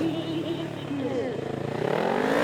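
A tuned Kawasaki Ninja 400 motorcycle accelerates hard through a gymkhana slalom course at a competition, its engine pitch sweeping upward in a rising rev, with a commentator talking over it.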